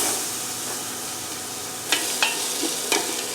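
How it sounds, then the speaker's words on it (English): Diced onions sizzle in a pot of melted butter and oil, a steady broadband frying hiss with a few sharp crackles and spatters near the end, close and alone with no talking. "I got my 2 onions diced up, and I'm going to go ahead and add them to my butter and oil mixture here"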